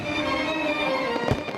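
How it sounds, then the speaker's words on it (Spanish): Fireworks burst during Fourth of July Independence Day celebrations in Washington, D.C., a rumbling crackle that builds to a sharp, loud bang near the end. "En Washington, D.C. se esperan para este sábado los tradicionales fuegos artificiales"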